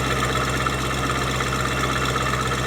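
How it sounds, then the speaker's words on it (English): A C5 Corvette's stock exhaust idles close by with a steady, burbling low rumble and no other sounds. "makes the C5 stock exhaust at idle sound a lot less like a motorboat"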